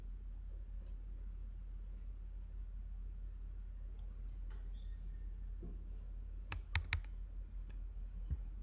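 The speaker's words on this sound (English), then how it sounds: "If I click, we start typing" Typing on a computer keyboard: a few sparse, faint keystrokes followed by a cluster of sharper, closer key clicks near the end, over a steady low hum.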